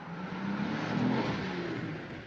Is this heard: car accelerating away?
yes